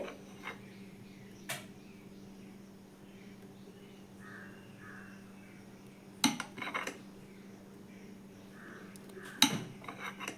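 Metal idli plates, oiled and being filled with batter, give a few sharp, scattered clinks in a quiet kitchen, separated by long silences, with faint birds calling in the background.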